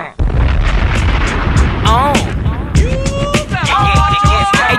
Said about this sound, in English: Flex, drop a bomb on this